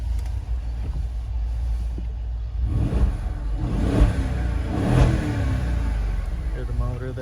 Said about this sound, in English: I believe this has an exhaust that opens up.